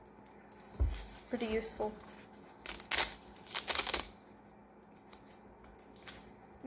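Blades of a splitting sword folding up, a few quick metallic clicks and slides close by, with someone talking briefly before and after.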